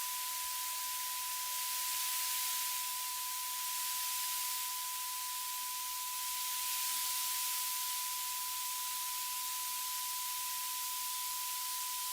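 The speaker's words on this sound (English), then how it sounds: "White noise is decreased." Steady broadband hiss with a faint constant tone; the noise level dips and swells gently in a few slow waves, with no voices.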